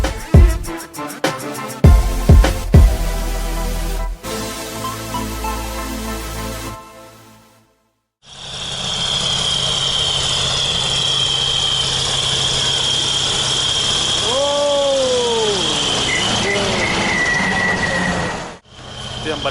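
Kirovets K-739 and KhTZ T-150K tractor engines idling during snow clearing in a blizzard, a loud, steady diesel rumble close by after a few sharp knocks and a brief gap, with a voice talking over it.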